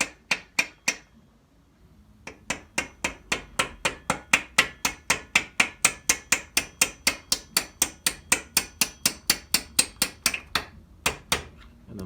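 A hammer strikes a brass drift against a rear axle bolt on a 1987 Honda CBR600F, a few sharp taps, a short pause, then a long steady run of rapid, evenly spaced metallic clinks, close and loud, ending with a few more taps.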